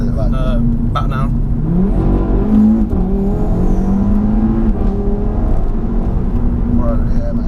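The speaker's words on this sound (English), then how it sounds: "as soon as I downshift it, foot flat to the floor" A Stage 1 tuned Audi RS3 of about 424 bhp drops a gear and then revs hard at full throttle, its pitch climbing steadily under acceleration, heard from inside with voices talking over it.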